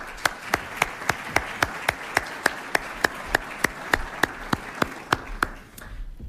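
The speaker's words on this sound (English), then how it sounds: "Please have a round of applause, please." Clapping at a military spouses induction ceremony, heard as a steady, evenly spaced run of sharp, crisp claps that stops near the end.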